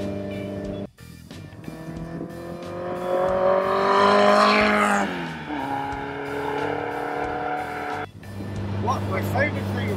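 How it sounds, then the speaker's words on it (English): A 1965 Lotus race car with a very powerful 1600 engine revs up, climbing to a loud peak before easing off and rising again. A voice talks over parts of it. "But this engine is actually a 1600 engine, very, very powerful."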